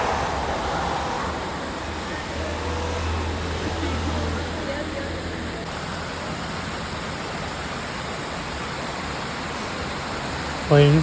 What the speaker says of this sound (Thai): น้ำไหลอยู่ตลอดเวลานะครับ